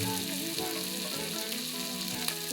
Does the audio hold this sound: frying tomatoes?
yes